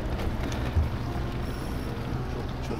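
A steady low motor drone from a boat, with water and wind noise around it, constant and fairly quiet.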